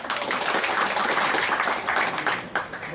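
Audience at a Tamil Shaiva devotional Thirumurai festival in Chennai breaks into brisk, close clapping, a dense burst of hand claps that holds steady for a few seconds.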